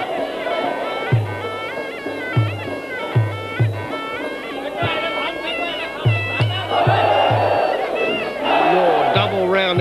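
A crowd at a Muay Thai fight cheers and roars loudly and steadily, swelling near the end. Traditional ringside music plays throughout with regular drum beats, and a commentator talks over it.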